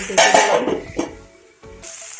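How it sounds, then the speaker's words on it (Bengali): Okra (bhindi) frying in a pan: a loud burst of sizzle with metallic pan and utensil clatter up front, easing to a softer hiss, then another brief clink and a quieter sizzle. "দেখো ভেন্ডিটা ভাজা হচ্ছে"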